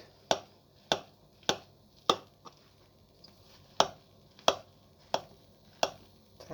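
A knife cuts through a layered liver cake made with beetroot, dill and homemade mayonnaise, striking the board beneath. The crisp, close knocks come at a steady rhythm, about ten of them.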